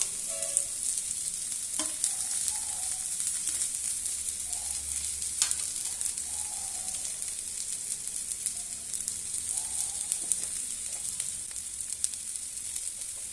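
Raw banana and potato pieces fry steadily in a pan, a continuous bright sizzle with occasional scraping stirs and small clatters, close and alone without voices.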